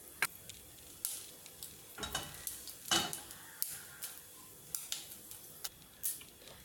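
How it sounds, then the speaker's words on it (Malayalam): Mustard seeds crackle in hot coconut oil for a sour rose apple pickle, giving irregular sharp pops and spits over a steady, close sizzle with no talking. "ഇനി ഞാൻ ഇതിലോട്ട് 1 ടീസ്പൂൺ കടുക് ഇടുന്നുണ്ട്."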